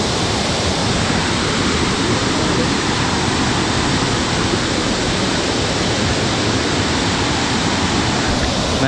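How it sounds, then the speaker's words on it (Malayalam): Porunnamkuzhi waterfall, a small fall beneath a bridge in Kerala, roars in a loud, constant rush of falling water heard up close. "ഇതാണ് പൊരുന്നംകുഴി വാട്ടർഫാൾ"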